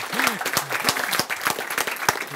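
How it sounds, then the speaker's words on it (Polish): A church audience applauds during a sermon, with sharp individual claps standing out in an uneven rhythm and a voice briefly calling out over them. "także wielkie brawa dla Tomka"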